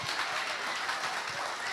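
Congregation applauding during a church leadership gathering, an even, moderately loud patter of many hands clapping that continues throughout the short stretch with no voices standing out.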